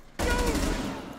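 Sudden loud burst of automatic gunfire in Rainbow Six Siege, starting abruptly after a brief quiet moment and continuing as a sustained rattling volley close up.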